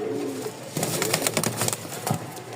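A male pigeon courts a female and coos softly at close range, with a few brief rustling bursts in between.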